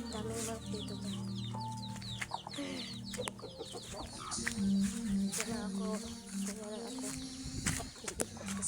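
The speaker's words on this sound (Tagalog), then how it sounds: "Wow! Manok!" Chickens cluck and squawk continuously amid a busy outdoor background, with several birds calling close by over a steady hum.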